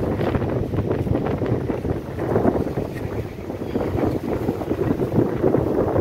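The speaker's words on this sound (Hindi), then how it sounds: "हम लोग पहाड़ की चोटी के ऊपर हैं और जोरदार हवा के झोंके आ रहे हैं हमें।" Strong wind gusts roar continuously across a mountain peak on a trek near Jaipur, with trees swaying. The wind buffets the microphone loudly and steadily, with no voices.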